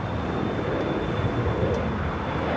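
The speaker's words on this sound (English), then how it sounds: "looking like a south side takeoff" Jet airliner taking off from Los Angeles International Airport on the south side, a sustained broad engine roar heard from a distance, steady and fairly loud with a faint high whine.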